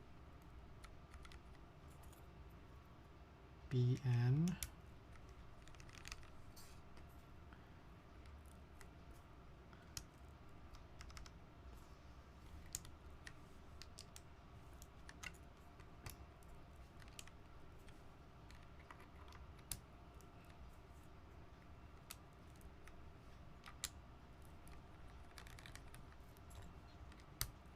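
Steady, fairly quiet typing on a d60lite 6085 keyboard fitted with Hirose switches, a continuous run of light key clicks with a brief louder clatter early on and a soft voice now and then.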